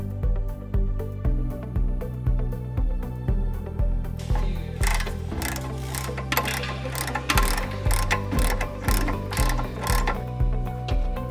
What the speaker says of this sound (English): Then bolt on the tie rod.